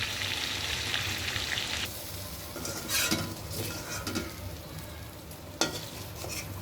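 Meat sizzles and fries in spiced oil while being stirred with a utensil, steady hissing with scraping and clinking of the pot, close and alone.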